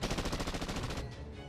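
Rapid automatic gunfire in the video game Fate/Grand Order, a fast even string of about a dozen bursts over roughly a second before it trails off into a low rumble.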